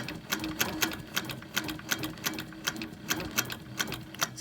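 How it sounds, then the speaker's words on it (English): Quilting sewing machine stitching through a wholecloth quilt, a steady run of close, evenly paced mechanical needle strokes, sounding alone without talk. "I am going to go ahead and start stitching until I get to my needle stop position."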